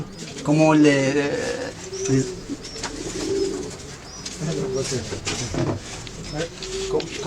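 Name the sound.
Moroccan racing pigeons cooing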